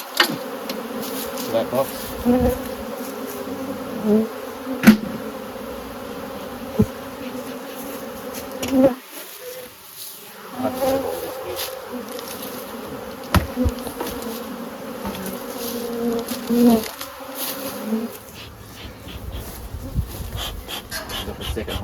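Honey bees buzz in a dense, steady drone while beehives are moved into a trailer in Crossmaglen, with brief bumps of handling and a short spoken remark over the swarm.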